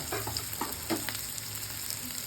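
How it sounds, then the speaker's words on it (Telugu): Finely chopped onions sizzle steadily in a hot pan for Rayalaseema-style egg curry, a continuous close frying hiss with a few soft stirring scrapes and no talking. "సన్నగా చాప్ చేసుకున్న ఆనియన్స్ వేసుకున్నామండి"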